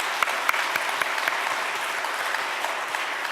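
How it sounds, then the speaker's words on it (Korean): A church congregation claps in encouragement for its young adults, a steady wash of applause with a few sharp individual claps standing out near the front. "우리 청년들 다시 한번 박수 한번 격려합시다."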